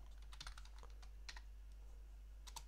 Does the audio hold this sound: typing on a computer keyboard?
yes